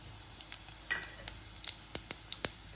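Fennel and cumin seeds, with a little cinnamon, splutter in hot oil, giving sparse, quiet pops and crackles at irregular intervals, with a few sharper snaps near the end.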